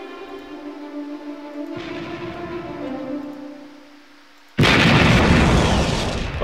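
Cannon fire in the Ironclads II naval battle game: a steady low hum gives way to a single loud, sudden blast whose roar slowly fades.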